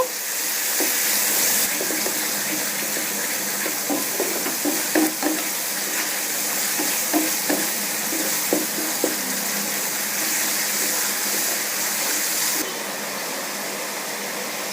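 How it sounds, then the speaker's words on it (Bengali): Powdered spice masala stir-fried in a pan for a papaya curry gives a steady, fairly loud sizzle broken by repeated scraping stir strokes, with no talking. "কিছু সময় ধরে এটাকে আমাকে কষিয়ে নিতে হবে, তবে মশলাটা ভালোভাবে প্রস্তুত হবে।"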